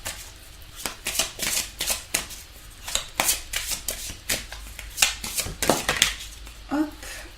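Tarot cards are shuffled by hand in quick, rhythmic bursts of riffling and slapping, close and fairly loud, with no talk over them.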